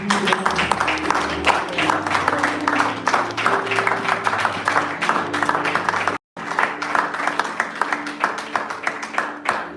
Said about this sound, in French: Est-ce qu'on peut encore applaudir pour le monde?